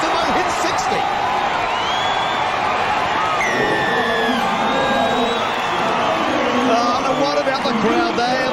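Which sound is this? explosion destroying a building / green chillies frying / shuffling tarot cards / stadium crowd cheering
stadium crowd cheering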